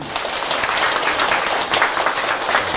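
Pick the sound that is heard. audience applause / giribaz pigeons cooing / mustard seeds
audience applause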